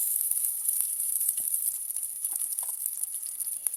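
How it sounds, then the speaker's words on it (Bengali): Oil sizzling steadily in a pan as it heats on the stove, a close, continuous hiss with scattered small pops and crackles and no talking. "দেখেন এই তেল দিয়ে দিছি"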